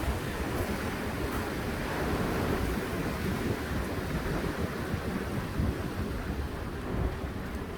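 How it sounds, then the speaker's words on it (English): Strong wind gusting hard outdoors during a windstorm among trees, a dense, continuous roar at steady loudness throughout, with no talking. "That wind is really scary."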